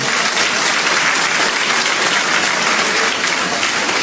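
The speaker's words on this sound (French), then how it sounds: "On peut l'applaudir." Loud, dense applause from a congregation or audience at a church-style gathering, a steady wash of many hands clapping without pause, heard alone with no voices.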